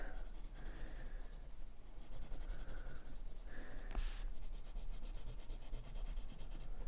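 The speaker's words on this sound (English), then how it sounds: "So there goes my pencil into each of these spaces." A graphite pencil shades into the small spaces of a grid-based Zentangle drawing, a soft continuous scratchy rubbing close to the paper, coming in short strokes over a steady low room hum.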